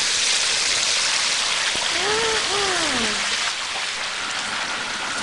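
Steady loud hissing, bubbling roar of hot oil boiling in a turkey fryer and bubbling over, a continuous wash of noise with a brief voice cutting through midway.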